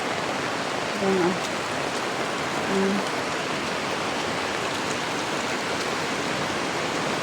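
Steady, dense rushing of rain and floodwater flowing through flooded village streets fills the whole stretch, constant and enveloping, with a couple of faint low tones briefly underneath.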